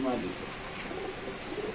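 Pigeons coo in cages at a bird market, a soft low cooing over a steady, noisy background of voices and crowd.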